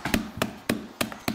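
A hammer crushes Oreo cookies for Oreo balls, giving five sharp, evenly spaced thuds in quick succession, close and distinct with no talking over them.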